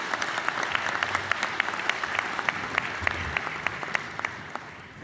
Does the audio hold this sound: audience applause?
yes